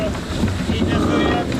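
Onboard a Hungarian sailboat during a match-race sailing event, with steady broadband wind rush and water noise filling the clip, constant and close, with no clear voices.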